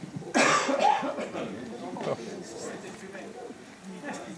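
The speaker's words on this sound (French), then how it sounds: "J'ai coupé mon micro, comme ça vous allez m'entendre tousser." A person coughs, a loud harsh burst followed by several smaller coughs and throat noises, close to the microphone, fading into quieter breathing and a little background talk.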